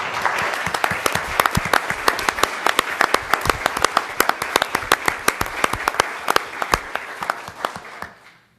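Applause rises from a crowd at a school board meeting, with crisp individual claps standing out over a dense wash of clapping, close and lively for several seconds before it fades out.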